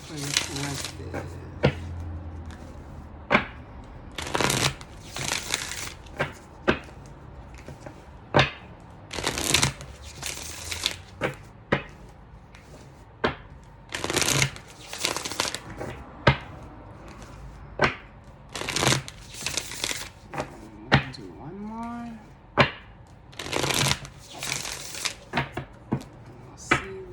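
A deck of tarot cards is shuffled in many quick, crisp riffling bursts separated by short pauses, close and clear.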